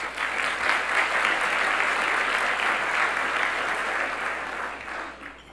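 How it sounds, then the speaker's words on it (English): An audience at a San Mateo County business event applauds the event sponsors with a full, sustained round of clapping that holds steady and then tapers off at the end. "Please give them a round of applause."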